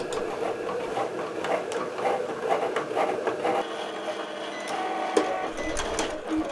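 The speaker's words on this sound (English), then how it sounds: "take notice of the sound of the Cricut Explore" A Cricut Explore One cutting machine runs through a cut, giving a steady mechanical whir with repeated clicks and short carriage pulses, close and moderately loud, with no talking.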